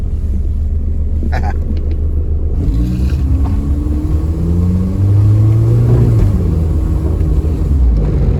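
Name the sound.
Mitsubishi Eclipse engine while testing manual transmission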